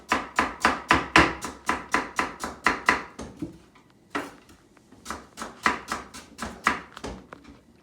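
A sharp kitchen knife chops rhubarb stalks into small pieces on a board, giving a fast, steady run of crisp knocks that pauses briefly and then resumes in an even rhythm, close and clear with no talking.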